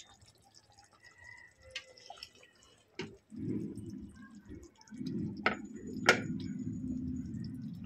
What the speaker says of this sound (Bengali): এবার আমি কোপ্তাগুলো দিয়ে দেবো।